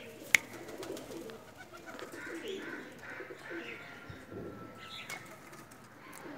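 A pair of pet Pakistani flying pigeons coos softly in a loft, low murmuring calls with a sharp click near the start and faint chirps and rustling in the background, with no speech.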